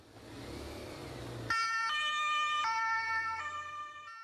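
Vehicle noise gives way to loud two-tone emergency sirens wailing back and forth, alternating pitches in a steady pattern close by, from an ambulance escort convoy.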